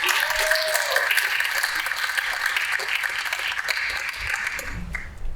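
Steady, dense audience applause fills a school jazz concert hall, with many hands clapping continuously at close range and a few voices and a faint ping mixed in.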